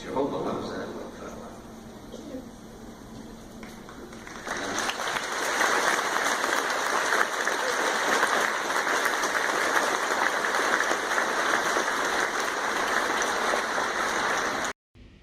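A large Jehovah's Witnesses audience breaks into sustained, dense applause that swells after a quieter start and continues steadily, broad and roomy, before cutting off abruptly.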